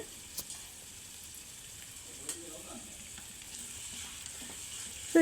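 Soft, steady sizzle of potato palya with turmeric frying in a pan, with faint stirring scrapes now and then and a brief clatter at the end; fairly quiet throughout.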